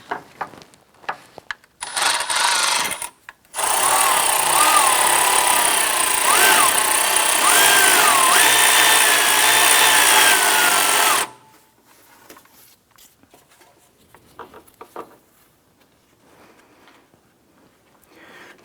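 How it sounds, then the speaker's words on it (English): A power tool runs in one loud, continuous burst of several seconds, tightening the horizontal belt adjuster bolt on a 2001-2005 Honda Civic, with shorter clicks and rattles from the engine bay around it. "So I'm going to go ahead and tighten the horizontal bolt"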